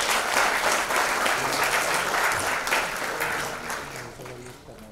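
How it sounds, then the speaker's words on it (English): An audience at a launch event for a Parkinson's disease treatment gives a round of applause for the Maharashtra health minister, Dr. Deepak Savant, full and sustained at first, then gradually thinning and fading toward the end. "can we please have a huge round of applause for him?"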